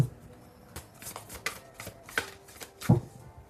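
Card shuffling at close range: a series of short papery riffles and slaps, irregularly spaced, ending with a louder snap near the end.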